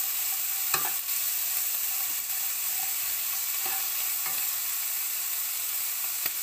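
Onions fry in a pan for a sausage cassoulet, making a constant hissing sizzle with a few sharp clicks and scrapes from a spoon being stirred through them.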